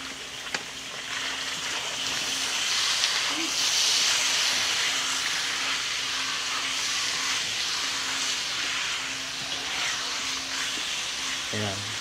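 Pork belly fries in a pan with salt, rendering its fat in a steady, hissing sizzle that holds at a moderate level for the whole stretch, with a voice speaking briefly over it.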